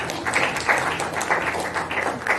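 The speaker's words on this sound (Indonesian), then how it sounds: "tepuk tangan sekali lagi" Seminar attendees clap together in a steady burst of applause, a dense, even patter of many hands filling the room at moderate loudness without speech.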